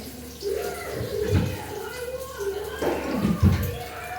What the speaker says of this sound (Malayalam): അപ്പോൾ ഈ നമ്മൾ വെള്ളം ഒഴിച്ചിരിക്കുകയാണ്